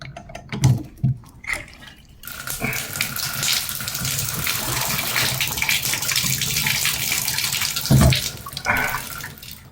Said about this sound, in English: There was a little bit of water that come from the head shower